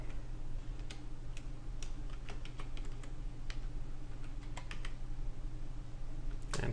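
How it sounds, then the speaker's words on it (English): Password being typed on a computer keyboard while setting up a network policy server: a steady run of quiet, irregular key clicks, close and alone, with no talking. "And we'll enter our password."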